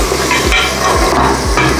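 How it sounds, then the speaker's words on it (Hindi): Beef soaked in garlic frying slowly over low heat for a korma base, a steady close sizzle with soft rhythmic scraping of a spoon stirring the pot about every half second. "गोश्त को हम ऐसे ही धीमी आंच पे भूनेंगे 15 मिनट।"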